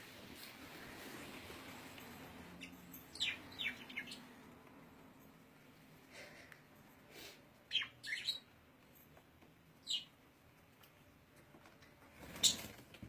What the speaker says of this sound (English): Oh, the birds? Yeah, the birds.